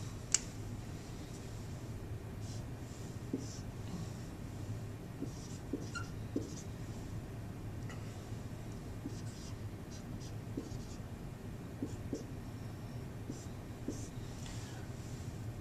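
Marker writing on a board during a math lesson, light squeaky strokes and taps in irregular bursts across a quiet room, no voice over it.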